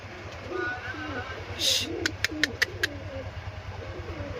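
An adult breeding pair of Hungarian pigeons coo softly in low, rolling murmurs, joined by a brief bright chirp and a quick run of sharp clicks or taps.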